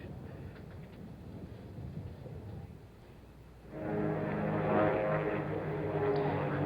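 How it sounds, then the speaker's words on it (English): An airplane cruising overhead at Pebble Beach golf course during the 1972 U.S. Open final round starts as a low background drone, then swells into a louder, steady engine hum that lingers for several seconds. "an airplane cruising overhead"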